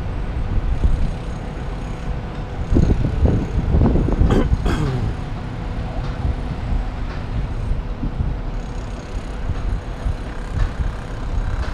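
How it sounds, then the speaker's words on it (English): Wind gusting across the open rooftop of the Okura Grand Hotel in Bangkok, a steady loud rumble buffeting the microphone with a few stronger gusts, no voices. "It's a little bit windy up here"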